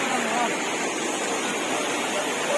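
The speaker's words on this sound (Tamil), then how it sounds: "இதோ அருவி கிட்ட வந்துட்டோம் நம்ம." Devkund waterfall pours in a steady, close, full roar of rushing water that stays even throughout, with voices faintly present beneath it.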